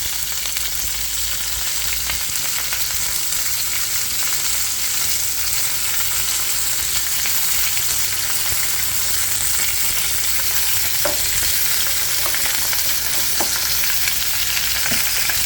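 Food frying in hot grease in a home kitchen, a steady dense sizzle and crackle filling the whole stretch at close range, with a few faint clicks near the end and no talking.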